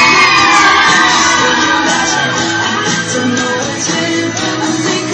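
Riders on a Music Express fairground ride scream and whoop together, a loud sustained wall of shrieking voices mixed with ride noise and music.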